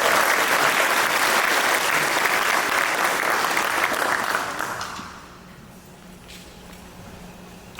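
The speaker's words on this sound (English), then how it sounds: "Let's give them both a round of applause" Sustained applause from a large crowd at a municipal candidates forum, loud and steady, then fading away into quiet room tone near the end.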